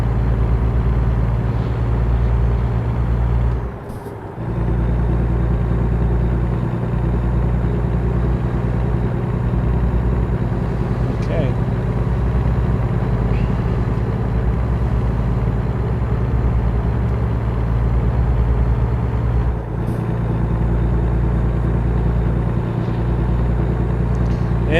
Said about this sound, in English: This engine's working pretty freaking hard.